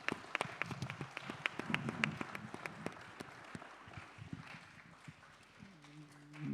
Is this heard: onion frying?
no